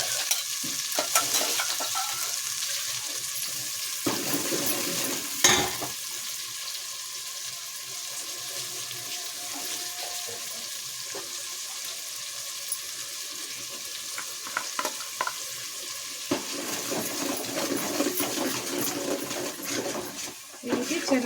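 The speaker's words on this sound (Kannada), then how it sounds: "ಈ ರೀತಿ ಚೆನ್ನಾಗಿ ಫ್ರೈ ಮಾಡ್ಕೊಬೇಕು." Ground paste of garlic, ginger, mint and coriander frying in a pan for vegetable rice bath, a continuous moderate sizzle with intermittent stirring scrapes and a few knocks, faint voice at times.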